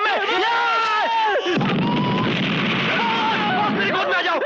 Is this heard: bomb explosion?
yes